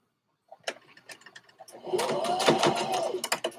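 A sewing machine stitches elastic tucked into a folded edge of fabric, starting with a few short bursts and ticks before running in a steady whir for the last couple of seconds, close by with no talk.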